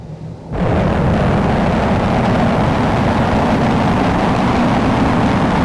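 An F/A-18 jet thrown off an aircraft carrier catapult in a flight simulator game: after a brief quieter moment, a sudden loud, steady roar of engine and launch rush sets in and holds at full strength to the end.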